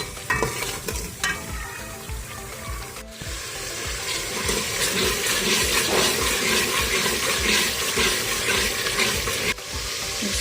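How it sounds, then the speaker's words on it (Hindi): Tomatoes and masala fry with a steady loud sizzle in a pan while a spoon stirs and scrapes through them, for a potato and capsicum (shimla mirch) curry, with brief pauses in the stirring. "टमाटरों को हमें इतना सॉफ्ट इधर तक फ्राई करना है कि ये अच्छे से सॉफ्ट हो जाए"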